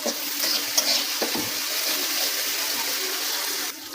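Chopped vegetables with salt turned over in a frying pan, a continuous close sizzle with soft stirring scrapes and a brief clink near the end.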